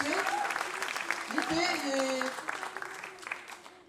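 Applause from a concert audience for students after a school ensemble performance, steady clapping throughout with a voice talking over it.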